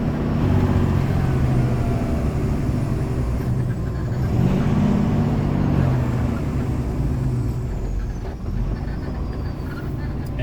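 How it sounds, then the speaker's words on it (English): A 2018–2019 Peterbilt truck with an automated transmission downshifts two gears while the engine brake engages hard in city traffic, giving a loud, steady, close low rumble that holds for the whole stretch. "it'll downshift the truck 2 gears, and it's going to hit the engine brake as hard as it can"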